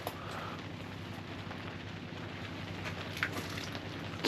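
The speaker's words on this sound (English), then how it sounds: "It's raining again." Steady rain pattering on an ice fishing shelter out on a frozen lake, with a constant dense hiss and a few sharper drop hits, no talking.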